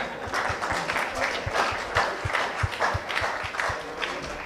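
An indoor audience claps after a presentation at a conference hall, a steady, moderately loud patter of many hands with no voices over it, sustained throughout.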